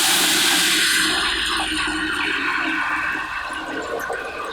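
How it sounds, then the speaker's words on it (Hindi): Boiled meat broth (yakhni) poured into a pot while making Afghani pulao with soaked sella rice, a steady loud watery rush that tapers slightly over a few seconds, with no talking. "इसमें जो हमने जिस गोश्त उबाला था वही यखनी इसमें शामिल करेंगे।"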